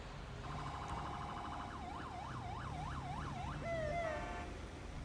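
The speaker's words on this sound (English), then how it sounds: "No, that's an ambulance." An ambulance siren in the video game GTA 5, a wailing two-tone then rising-and-falling yelp cycling steadily, moderately loud over a low engine drone, with no talk.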